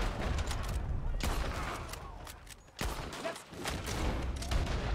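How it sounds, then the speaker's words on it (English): Gunfight in Red Dead Redemption 2 with rapid, overlapping gunshots, several sharp cracks and bursts standing out from a busy, continuous din. "Some pretty good shooting there, Mr. Morgan."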